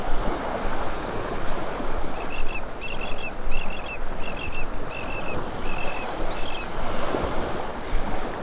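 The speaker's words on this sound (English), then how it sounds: "Noisy little willet bird up here." Willet calling on a beach in North Naples, Florida: several short bursts of repeated high, piping notes in a row, moderately close, riding over a steady wash of surf and wind.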